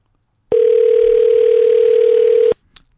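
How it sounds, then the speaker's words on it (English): A steady electronic telephone tone on an outgoing call during a live-stream show holds for about two seconds, loud and close, then cuts off abruptly and leaves near silence. "Let's see if he picks up that phone"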